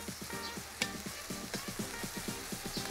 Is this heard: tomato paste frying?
yes